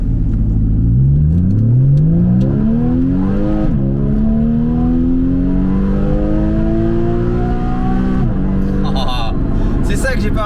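A Porsche fitted with a SCART exhaust revs hard toward its roughly 7500 rpm limiter, rising in two loud, sustained climbs with a brief dip between, then dropping off with crackle near the end.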